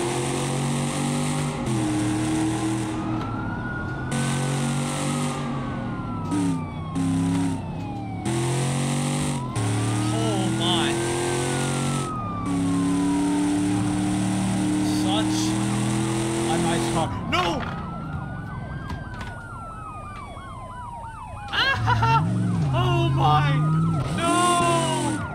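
A 1000HP Camaro ZL1 1LE in BeamNG.Drive roars and revs in a police chase, with the engine pitch rising and falling through gear changes, police sirens wailing alongside, and a voice speaking over it.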